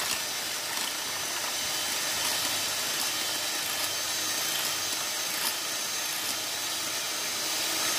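Electric hand beater whipping dalgona coffee into foam, a steady, close whirring drone that holds evenly for the whole stretch with no talking.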